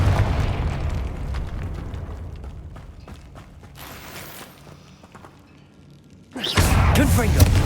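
A Confringo fire spell blast in Hogwarts Legacy: a muffled rumble and mechanical creaks fade toward quiet, then a sudden loud booming burst erupts near the end and roars on.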